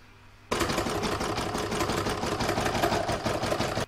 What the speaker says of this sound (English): I'm now going to put that in my machine and stitch it down.